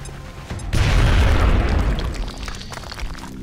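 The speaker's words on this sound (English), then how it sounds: "Okay, let's do the grenade." A grenade explodes in XCOM Enemy Within, a single loud, close boom that bursts suddenly and then rumbles and crackles away over the next few seconds.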